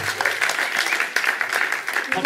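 A small group claps briskly and steadily up close, with voices mixed in under the clapping.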